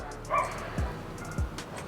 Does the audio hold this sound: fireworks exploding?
no